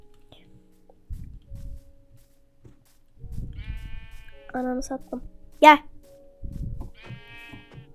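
A sheep in the Minecraft video game gives a few short, clear bleats in the middle of the clip, heard between bursts of nearby talking and in-game footstep noises.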